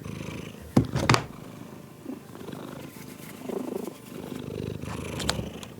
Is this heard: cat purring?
yes